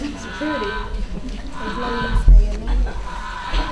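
A bullfrog's low, droning call played back indoors at an aquarium presentation, a deep repeated moan over a background murmur.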